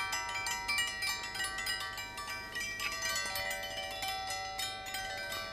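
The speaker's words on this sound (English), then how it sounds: "This is a door harp." A wooden door harp hanging on the inside of a door plays a steady shimmer of bright, overlapping chimes. Its struck strings ring continuously with many sustained tones, clear and close.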